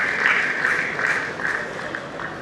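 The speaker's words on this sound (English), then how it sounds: "I just want a very quick round of applause for everyone who contested" A quick round of applause from a summit audience for the contestants: a steady, loud burst of crowd clapping lasting a couple of seconds, fairly close.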